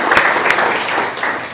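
A group of new merchant navy recruits clapping together indoors, a short burst of loud, uneven hand claps with a few sharper individual claps standing out.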